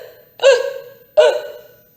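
A voice imitates two hiccups during a spooky storytelling session, each a sharp, close vocal gulp separated by a short pause.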